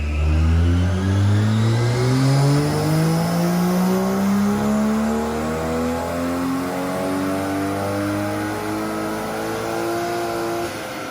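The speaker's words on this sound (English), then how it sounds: "dyno run with the 1JZ car" A 1JZ-engined car revs hard on a dyno, its pitch climbing steadily and then holding high and loud throughout, with no voices over it.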